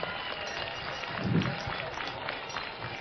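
Audience at an outdoor political rally in the Upper East region of Ghana applauding and cheering for the president, a continuous, loud, rough wash of clapping and crowd noise.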